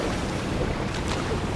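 A lava fall in the Darksiders 3 video game gives off a loud, steady, broadband roar like rushing water, heard up close with no talking.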